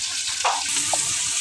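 Mustard paste added to frying fish curry in a pan, a bright steady sizzle with a brief stirring scrape, close and alone.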